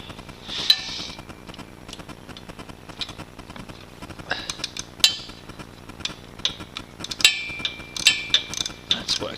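A ratchet and tool tighten the jet on an Amal carburettor of a pre-unit Triumph motorcycle, giving close metallic clicks and scrapes in irregular bursts, with sharp taps scattered across the stretch and no talk.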